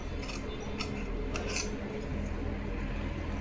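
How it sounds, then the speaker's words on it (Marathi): Scissors cut through a simple blouse fabric, folded in four, along drawn lines, giving a steady close rasping with a few sharper snips against a constant background hum. "आपण जसं ड्रॉ केलेलं आहे ना त्यानुसार आपण कटिंग करून घेऊ सिंपल असं ब्लाऊज कटिंग आहे"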